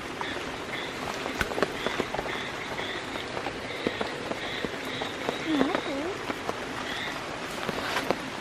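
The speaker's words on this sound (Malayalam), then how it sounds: "മഴയത്ത് കൊടയും ചൂടി ഇങ്ങനെ നടന്നു പോകുമ്പോൾ തന്നെ രസല്ലേ" Monsoon rain falls steadily over paddy fields in Kerala during a walk under an umbrella. Scattered drops patter nearby, and frogs croak now and then through the rain.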